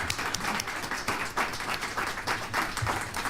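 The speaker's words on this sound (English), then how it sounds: "give a very enthusiastic round of applause and congratulate the winners" Enthusiastic audience applause for award winners at a ceremony, a dense, steady wash of many hands clapping close by, with no talk over it.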